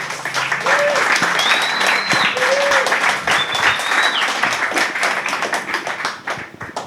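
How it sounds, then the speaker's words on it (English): Sustained applause from a conference audience welcoming a speaker to a talk on the bottled water industry, with a few rising whistles cutting through the loud, dense clapping. "So please, a big round of applause for Christine."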